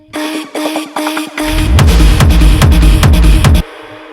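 A dense electronic heavy trap pre-drop with choppy stuttering synth chords, then a heavy sub-bass kick pattern pounding in with sweeping synths before cutting off abruptly.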